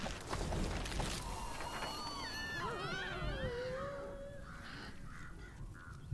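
Crows in Tearaway Unfolded caw repeatedly, the harsh calls rising and falling over a rumbling background that starts loud and fades, with a few last caws trailing off at the end.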